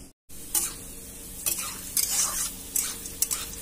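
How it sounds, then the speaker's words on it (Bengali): Chana dal frying in oil in a home kitchen pan, a soft continuous sizzle broken by several clattering stirs of a spoon against the pan, close and with no talking. "চানা ডাল গুলো ভাজছি তেলের সাথে।"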